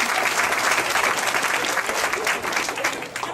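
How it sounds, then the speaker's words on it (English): Audience applause fills the hall at the opening ceremony of the 2008 Ohio USBC WBA bowling tournament, a dense, loud burst of many hands clapping that holds steady for a few seconds. "Nice round of applause"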